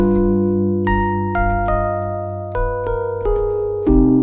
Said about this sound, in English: Okay, so the altered is going to sound like this.